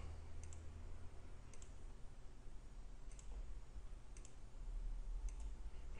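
Mouse clicks in SolidWorks CAD software, quick double clicks repeating about once a second, faint and close over a low steady hum of room noise.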